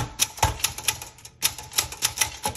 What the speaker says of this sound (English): Let's go ahead and start typing.